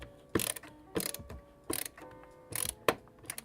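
A screwdriver drives a screw into a small device next to a DC motor, giving several short ratcheting clicks in uneven bursts, close and faint.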